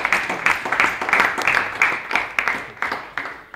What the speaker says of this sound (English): So everyone should clap for him.